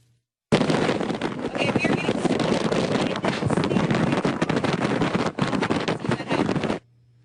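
Loud, roaring gusts of Hurricane Sandy buffet the microphone continuously for about six seconds, a harsh rumbling wash that stops abruptly.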